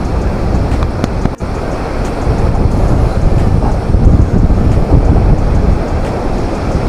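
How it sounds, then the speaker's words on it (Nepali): Strong wind sweeps past the Jalbire waterfall in Chitwan, swaying the trees with a loud, continuous roar and buffeting against the microphone, plus a brief knock early on and no speech. "यस्तो रुखै हलिनी गरेर हावा आउने रहेछ है"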